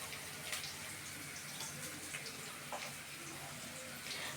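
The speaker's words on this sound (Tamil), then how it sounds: "கருவேப்பிலை கொத்தமல்லிலாம் அலசி எடுத்து வச்சுக்கோங்க." Curry leaves and coriander rinsed in water for a Tamil fish curry (meen kulambu) make a steady rushing, splashing wash of water close by, with no talking.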